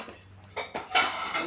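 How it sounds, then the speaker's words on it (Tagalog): Ceramic plates are taken out and handled at home before a Friday lunch, a few sharp clinks and scrapes of dishes knocking together at close range, with no talk. "Naglabas ako ng pinggan"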